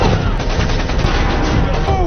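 Dense film battle gunfire, overlapping shots and bursts crackling continuously at close range with a steady rumble beneath, no talk.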